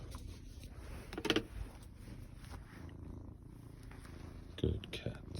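Two cats purr in a low, steady, faint rumble close by, broken by a couple of brief louder rustles or bumps.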